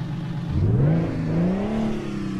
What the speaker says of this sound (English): let's turn the truck on